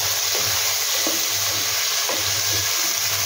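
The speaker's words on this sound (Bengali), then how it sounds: "এবার এটাকে ভালো করে আবার একটু নেড়ে নেব।" Chicken stew sizzling and frying in a pan, steady hiss with a few soft stirring scrapes spaced through it, close and continuous with no talking.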